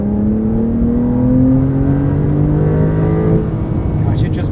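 A 2022 Porsche 911 Carrera with PDK pulls hard in third gear from 3,000 RPM, its engine note rising steadily and loudly from inside the cabin.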